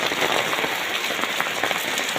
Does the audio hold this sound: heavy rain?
yes